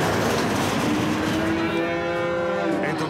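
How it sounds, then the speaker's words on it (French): A herd of fifty purebred dairy cows lows and moos together on a farm near Drummondville, long overlapping calls droning steadily and loudly throughout with no talk. "Un troupeau de 50 vaches laitières"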